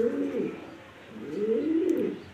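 A big female pigeon coos twice in low, rolling bursts, close by and fairly soft, with a quiet pause between the two calls.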